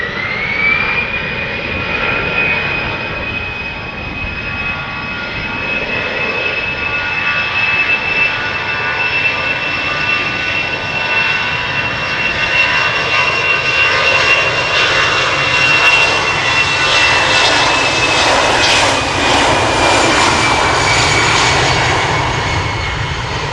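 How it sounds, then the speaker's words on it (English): An EasyJet Airbus A319 departs Amsterdam Schiphol for Bristol, its jet engines whining with a strong steady tone over a growing roar that swells louder toward the end, near and unbroken by speech. "EasyJet to Bristol, next up. A319"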